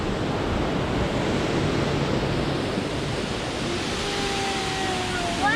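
Soco Falls, a mountain waterfall near Bryson City, North Carolina, roars with a heavy, steady rush of falling water that stays loud and unbroken throughout.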